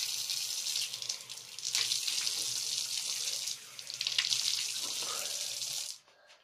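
Tap water runs steadily into a sink during face washing, a close, hissing splash that shifts a little as hands move through the stream and then stops abruptly.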